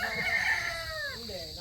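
A rooster crows close by in a long, rising-and-falling call on a chicken breeding farm, with faint clucking and farmyard murmur underneath.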